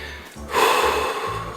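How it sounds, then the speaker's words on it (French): Heavy, labored breathing of someone out of breath after a bout of breathlessness, with a sharp gasping intake followed by a sustained rough exhale, close and fairly loud, no speech. "J'ai des coups d'essoufflement comme si je venais de courir un marathon, il faut que je reprenne mon souffle."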